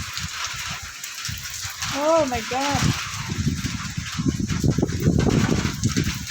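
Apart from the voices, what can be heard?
rain starting with strong wind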